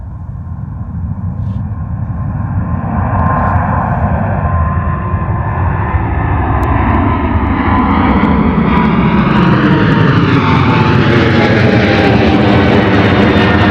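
Jet airliner taking off at full power on a frosty Gatwick runway, a loud rumbling roar whose tone rises steadily as the aircraft accelerates and passes close, with no voices.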